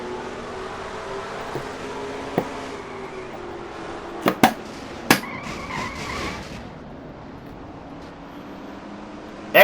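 Stock cars in a NASCAR-style racing video game skid past a crash with a sustained engine roar and tire noise, broken by several sharp impacts or skid bursts near the middle, with no talking.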